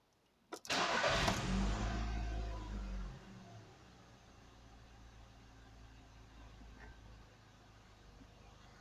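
A petrol 1.6 Audi A3 engine cranks briefly and catches, roaring loudly up to speed before dropping into a steady, quieter idle that runs on to the end.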